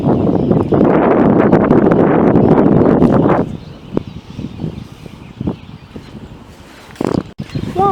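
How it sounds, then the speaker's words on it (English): Strong gusty wind from a small, fast-moving severe thunderstorm cell roars loudly for a few seconds, then drops to a quieter rustle with a brief renewed gust near the end. "there's a lot of wind associated with it"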